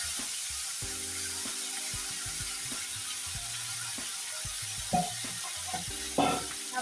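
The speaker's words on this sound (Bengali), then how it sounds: "তুলে আমি ফুলকপিটা ভেজে নেব, একটু হলুদ আর লবণ দিয়ে ফুলকপিটা ভেজে নেব" Cauliflower frying in oil with turmeric and salt gives a soft, even sizzle, joined by a couple of brief louder bursts, while gentle tonal music plays throughout.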